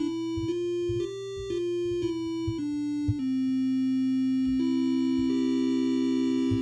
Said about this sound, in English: the last one I want to show you is the square wave, and again, it sounds a bit different